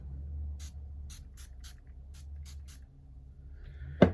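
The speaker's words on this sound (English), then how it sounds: "I'm going to spray it a little bit more just to kind of set." Setting spray is misted over a freshly made-up face in about seven short, crisp spritzes at an uneven pace, close up over a low steady hum, ending with a sharp knock.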